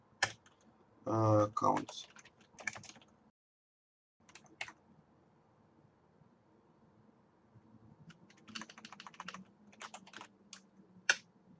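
Keys clack in scattered short bursts on a computer keyboard while R code is entered, with a voice speaking near the start and the tapping growing busier toward the end.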